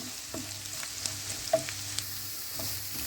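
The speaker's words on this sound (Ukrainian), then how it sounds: "До цибульки додаю моркву. обсмажую разом." Onion and grated carrot fry together in a pan with a soft, continuous sizzle. Light, intermittent scrapes and taps of a utensil stirring the vegetables are heard up close, with no talking.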